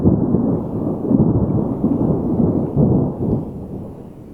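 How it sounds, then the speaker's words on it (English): Thunder rolls through a storm as a loud, sustained low rumble that swells and fades without a break, with no voices. "Pretty sure I just heard lightning."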